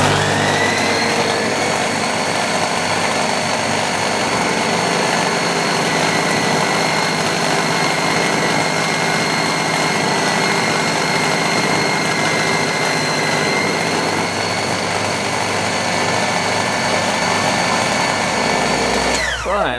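A lathe or drilling machine runs steadily while a centre drill cuts into a centre-punched mark on a metal part for a Stuart Turner piston water pump, a continuous motor whine with high tonal harmonics that stops abruptly at the end.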